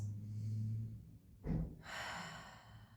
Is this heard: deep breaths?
yes